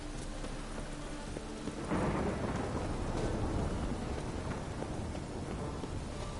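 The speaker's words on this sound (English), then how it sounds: "It's raining again." Steady rain pattering down in the game The Witcher 3: Wild Hunt, with a deep rumble of thunder rolling in partway through, fairly close and full, with no voices.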